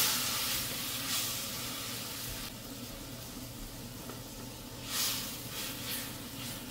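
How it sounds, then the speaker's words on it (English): Red wine hits a hot osso buco pan and sizzles with a steady, dense hiss, swelling briefly in a louder burst near the end. "to deglaze the pan and get all of those burnt goodies out of there, we are going to put some red wine in our pan"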